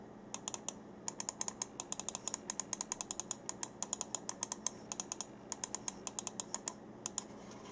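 Button switches on a Gamdias Demeter gaming mouse clicked repeatedly, quick sharp light clicks in irregular bursts, close and fairly quiet against a faint background hum.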